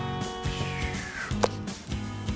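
A crow caws several times in quick succession, loud and close, with no other sounds around it.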